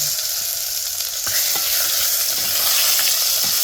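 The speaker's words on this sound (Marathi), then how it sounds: "आता एक पळीभर तेल ओतूया आता एक चमचे जिरं टाकायचं लसूण वाटलं" Cumin seeds and ground garlic tempering in hot oil, a loud, dense sizzle that holds steady and swells slightly near the end, with faint stirring clicks and no voices.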